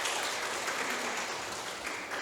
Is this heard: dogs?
no